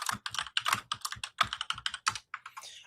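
Rapid clattering keystrokes on a loud keyboard, bursts of typing in quick uneven runs, close and prominent, with a brief pause near the end.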